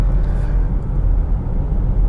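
Steady low road rumble and engine drone from a car cruising at a constant 80, loud and continuous with no talk over it.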